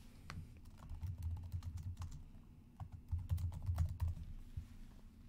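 Keys clatter on a computer keyboard in quick irregular bursts, close and moderately loud, with a short pause midway before the tapping resumes more densely, no voices present.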